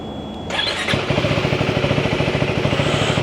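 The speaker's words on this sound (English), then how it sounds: "Let's crank the bike up and let's ride" A KTM 390 Enduro R motorcycle engine cranks with a whirring starter, catches and settles into a loud, close, rhythmic single-cylinder idle.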